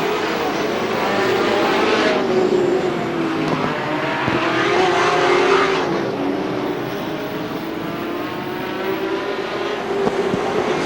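Race cars lapping at Star Speedway, a loud, continuous engine roar that swells and fades as cars pass close by and circle the track.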